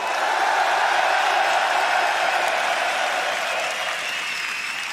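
A large arena crowd at the League of Legends EU summer split final in Madrid applauds steadily, a dense wash of clapping and cheering that holds loud for the whole stretch.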